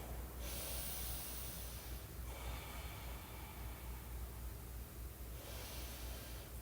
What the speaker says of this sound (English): Big, deep belly breaths way down in the lower back.